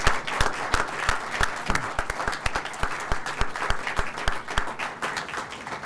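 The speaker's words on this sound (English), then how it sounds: "Let's recognize tonight's grant recipients with a round of applause." At a community foundation's annual meeting, the room applauds tonight's grant recipients with a lively round of clapping, several close, crisp individual claps punctuating a steady background of many hands.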